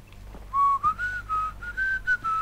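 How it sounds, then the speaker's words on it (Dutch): A sustained melodic whistle rises and dips in several short phrases in the Far Cry 3 video game, clear and close over a low background hum with no talk. "Oh ja, we moeten gaan fluiten."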